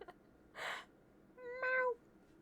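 A cat gives a single clear, rising-then-falling meow near the end of a short, otherwise quiet stretch, after a brief soft rustling burst; the meow is close and moderately loud.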